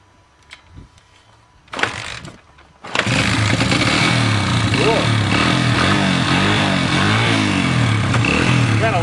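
A Honda motorcycle cold-started with the choke on: a few clunks and a brief cranking burst, then the engine catches and settles into a loud, steady idle close by, with voices faintly underneath.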